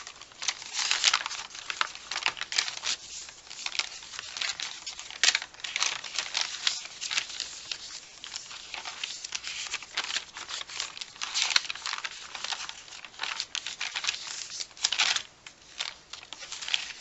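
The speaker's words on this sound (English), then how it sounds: "I love the sound of the crinkly paper." Crinkly paper rustles and crackles continuously, with pages flipped and handled up close in quick, irregular bursts and no talking.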